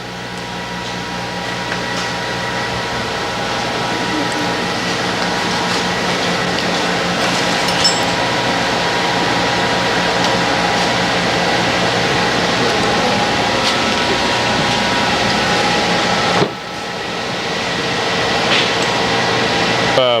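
A portable boring bar runs steadily while machining a part, producing a continuous loud mechanical hum and whine with fixed tonal lines. The tone drops out briefly near the end and then resumes.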